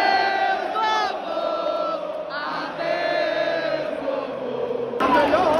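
Crowd of Fortaleza football supporters roaring and chanting together in a stadium after eliminating their rival, a dense, sustained mass of voices near and loud, with a brief lull partway and a renewed surge at the end.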